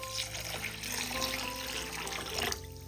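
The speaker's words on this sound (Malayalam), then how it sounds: "ഇനി ഇതിലേക്ക് ആവശ്യത്തിന് വെള്ളം ഒഴിച്ച് ഒരു അരമണിക്കൂർ നമുക്ക് കുതിർക്കാൻ വയ്ക്കാം" Water pours and trickles over washed basmati rice in a bowl to soak for chicken biryani, a soft continuous splashing close by with a faint hum beneath and no talking.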